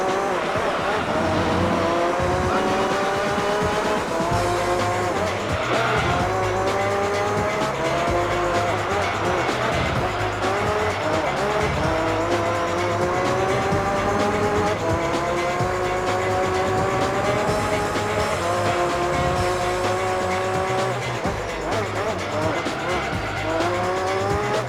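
Race cars from Gran Turismo 3 roar continuously for the whole stretch, their engine notes rising and falling through gear shifts. Tires squeal in places, and a voice talks over the racing throughout.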